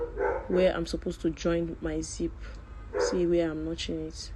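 Dog barks in short yapping bursts in the background of a sewing room while someone talks over them through most of the clip.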